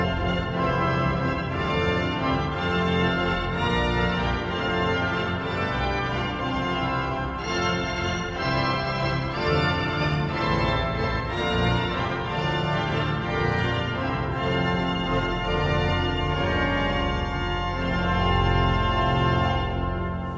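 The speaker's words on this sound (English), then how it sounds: "if we pull out all of these stops, which we always like to do, of course, it sounds like this" The Hinsz pipe organ of the Bovenkerk in Kampen, Netherlands, plays with all its stops pulled out, a massive, dense wall of sustained chords filling the church continuously, loud and unbroken, with no talking.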